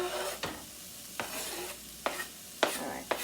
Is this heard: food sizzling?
yes